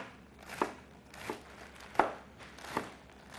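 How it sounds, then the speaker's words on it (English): A knife chops greens finely on a cutting board, five distinct close thuds in a slow, steady rhythm with a faint rustle of leaves between strokes. "And then we're going to start chopping these greens very finely."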